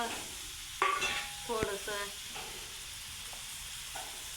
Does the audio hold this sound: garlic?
yes